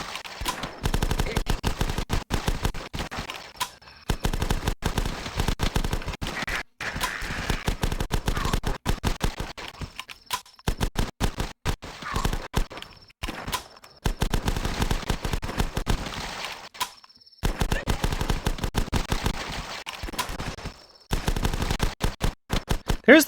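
Rapid bursts of automatic gunfire from The Last Stand video game crackle in dense, loud volleys separated by short gaps, continuing throughout with no talking.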